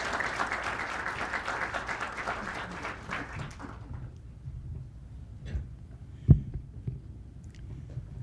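An audience at a formal legal and democracy lecture applauds, a dense steady patter of many hands that fades out after a few seconds, leaving a quiet room with a few low thumps.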